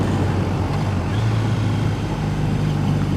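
A 2014 Triumph Bonneville motorcycle on a demo ride, its engine a steady loud low drone mixed with rushing wind and road noise, continuous throughout.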